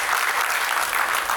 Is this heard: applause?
yes